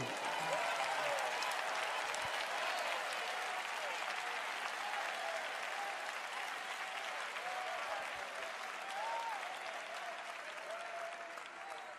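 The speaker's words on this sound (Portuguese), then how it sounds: "Então vocês podem dar um aplauso para o rei." A church congregation applauds during a worship service, a sustained, even roar of many hands clapping with a few faint cheers rising over it. It holds steady for about twelve seconds and tapers a little toward the end.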